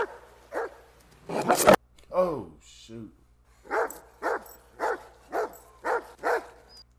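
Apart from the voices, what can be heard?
dog barking aggressively in the film Signs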